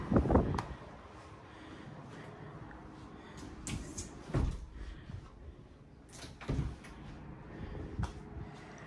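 The entry door of a mobile home opening and closing, with a few distinct knocks and thuds spread across the clip amid a quiet indoor room tone.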